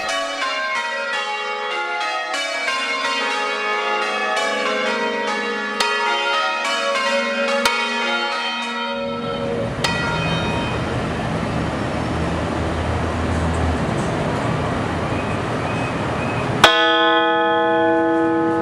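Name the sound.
large tuned bell ringing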